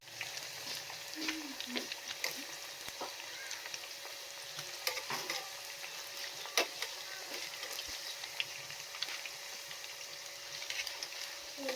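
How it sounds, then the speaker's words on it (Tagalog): Siomai dumplings deep frying in hot oil, a steady close crackling sizzle with scattered sharp pops throughout, no talking. "I-deep fry natin."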